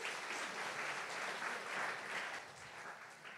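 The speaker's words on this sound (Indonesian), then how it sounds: "Tepuk tangan untuk Anda semua." Steady applause from a church audience fills the space for a few seconds, a dense, even wash of clapping at moderate distance with no voices over it.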